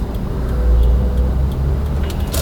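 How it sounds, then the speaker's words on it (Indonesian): A car with a freshly overhauled automatic transmission pulls away on a test drive, its engine a steady low rumble heard from inside the cabin. "Oke, ini gue mau ngecek akselerasi mobil ini ya."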